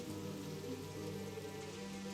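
Steady rain with wind, a continuous dense wash of drops on a surface, unbroken and fairly faint throughout.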